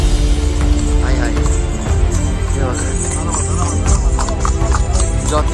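A horse clip-clops along on the path at Sinhagad fort, its hooves striking in a steady walking rhythm close by, while people's voices and calls run over it.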